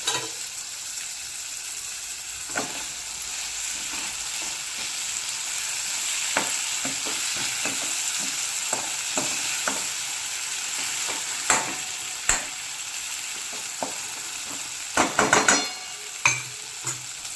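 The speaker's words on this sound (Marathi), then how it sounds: "आता मी चिरून घेतलेले वांगे ह्याच्यात घालते" Chopped brinjal fries in spiced masala, a constant bright sizzle with scattered scraping stirs of a spoon against the pan, growing into a quick cluster of louder scrapes toward the end, no talk.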